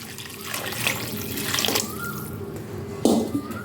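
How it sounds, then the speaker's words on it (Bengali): Hot boiled water poured from close by into a pot of chicken and chana curry, a splashing gurgle that swells and ends in a brief louder splash, with no talk. "এবার আমি দিয়ে দেবো ফুটিয়ে রাখা গরম জল।"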